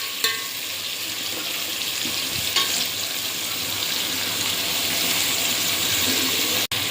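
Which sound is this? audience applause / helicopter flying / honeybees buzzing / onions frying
onions frying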